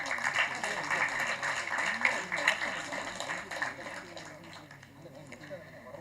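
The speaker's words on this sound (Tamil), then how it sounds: "ஒரு பெரிய கைத்தட்டல் கொடுக்கலாம்." Applause from an audience at a Tamil film audio launch, greeting actress Maithili as she comes onto the stage; dense, steady clapping fills the room and tapers slightly toward the end.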